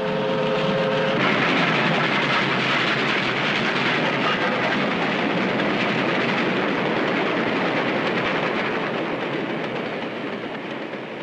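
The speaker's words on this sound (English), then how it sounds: "The men going to work can see the freight trains bringing in the raw materials." Freight trains rumble past on rail lines beside the Youngstown steel mills along the Mahoning River, hauling iron ore, coal and limestone during World War II; a loud, steady rolling roar with clattering wheels, briefly joined by a horn at the start.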